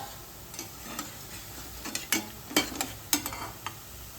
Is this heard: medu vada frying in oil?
yes